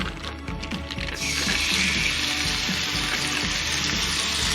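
Marinated sharptail grouse sizzles in a pan for a cheese omelette. The quiet start gives way to a loud, steady frying hiss, with light clinking and scraping of the pan underneath.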